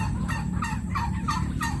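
A turkey gobbles repeatedly in quick rattling bursts, fairly close, over a steady low background hum.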